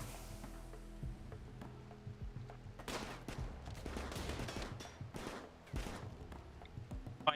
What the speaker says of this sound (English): You need to shoot him.